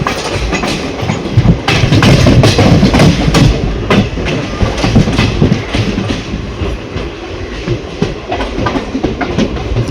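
A train rolls into Kanhangad railway station in Kerala, its wheels clattering and rumbling loudly and close by, with rhythmic clunks over the rail joints throughout.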